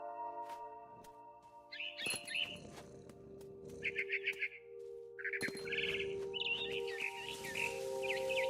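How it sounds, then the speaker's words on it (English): Bird chirping in the video game What Remains of Edith Finch, short bursts of bright tweets repeating over a steady hum of game music, with a few soft thumps in between. "Then I heard chirping outside my window."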